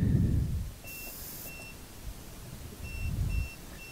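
A heated 10-liter ultrasonic cleaner's timer control panel gives several short, high electronic beeps as its buttons are pressed, with faint handling thumps between them.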